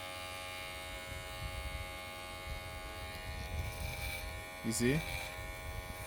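Electric hair clippers with freshly diamond-stone-sharpened blades buzz steadily as they cut hair down to skin level, a close continuous hum with a brief louder burst near the end, and someone speaks briefly.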